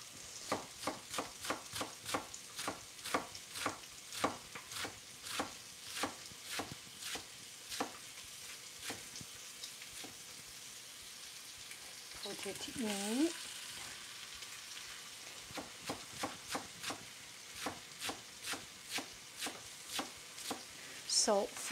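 Bok choy and Chinese cabbage stir-fried with vinegar in a pan: a steady run of sharp spatula strokes over a low sizzle, close by, with a short stretch of voice partway through.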